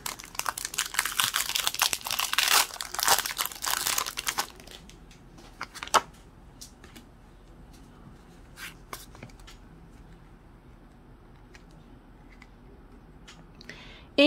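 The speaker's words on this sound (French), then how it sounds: "Le booster ne voulait pas s'ouvrir." Crinkly foil wrapper of a Pokémon card booster pack being torn and crumpled open, a dense burst of loud rustling for about four seconds, followed by scattered faint crinkles and taps in a quiet room.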